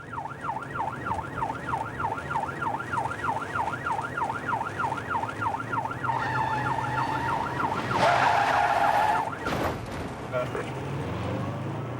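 A police car siren wails in a steady rising and falling cycle, then a car's tyres screech briefly in a failed handbrake turn, loud and close, with a voice talking over it.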